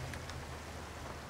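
Steady, dense rain in the cycling game Roerveen, a continuous broadband hiss of falling water with a low rumble beneath, even and unbroken throughout.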